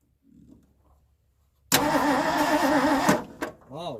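A 1974 Ford F100 pickup, parked for 21 years, cranks briefly after a quiet lull, then its engine catches and roars loudly, settling into a rough idle with a faint voice nearby.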